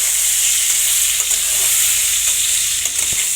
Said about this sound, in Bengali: ভালো করে পটলটা আমি এখন ভেজে নেব